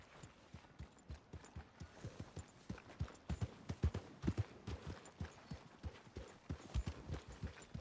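Steady clip-clop of horse hooves trotting at a brisk, even rhythm in a PS4 video game, fairly close and clear, with no talking.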